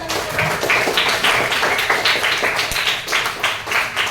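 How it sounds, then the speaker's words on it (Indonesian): A small audience claps in a loose, uneven rhythm of separate hand claps, near and moderately loud, with no talking over it. "Oke, tepuk tangan."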